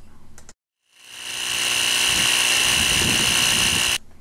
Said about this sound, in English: I have a little 18-volt Ryobi inflator that I like to use for this.